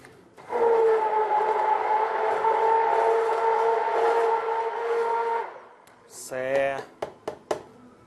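An electric blender mixes a shake with almond milk in a loud, steady motor whine for about five seconds, then stops abruptly, and a voice speaks afterwards.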